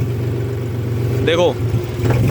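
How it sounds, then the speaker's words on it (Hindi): A John Deere tractor engine runs with its dry air filter intake being blocked from the front, producing a steady mid-pitched engine hum under voices, with a brief chirping sound partway through. "देखो आरपीएम भी ड्रॉप हो रहे हैं जब वो हवा बंद कर रहे हैं आगे से"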